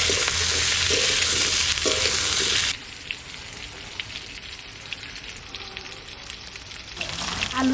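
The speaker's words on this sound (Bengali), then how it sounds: "আলু কটা কষানোর জন্য তেল দিয়েছি।" Potatoes fry in hot oil in a village kitchen: a loud, dense sizzle rushes for about three seconds, then settles into a quieter crackling with scattered pops that swells again near the end.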